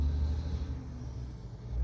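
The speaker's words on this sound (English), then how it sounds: "If you hear vehicles passing in the background, please don't mind that." Vehicles passing outside, heard as a low, muffled traffic rumble that swells and fades in the background, with no talking.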